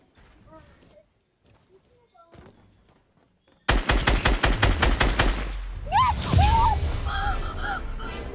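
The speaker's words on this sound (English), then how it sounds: "Oh, SMG, I need a SMG kill." Rapid SMG fire rattles loudly in a long burst in the video game Fortnite, with other game effects mixed in and excited voices talking over it.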